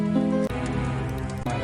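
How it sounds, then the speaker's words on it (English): Rain hiss sits inside a played music track with harps, a steady wash of patter under sustained tonal notes, moderately loud throughout. "And rain?"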